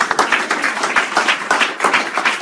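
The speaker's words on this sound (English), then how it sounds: "Give the Lord a round of applause." An audience at a church gathering claps in a dense burst of applause, loud and close, with many overlapping hand claps throughout.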